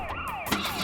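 A police car siren sound effect wails in quick rising and falling sweeps, loud and close with no voices.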